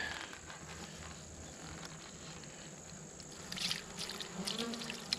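Bees swarm around a sugar water feeder, their buzzing steady and close throughout, swelling louder in the last couple of seconds as the agitated insects stir.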